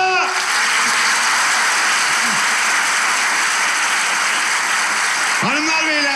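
Dense, loud applause from a studio audience fills a television show set, steady and unbroken for several seconds, with brief voices breaking through at the start and near the end.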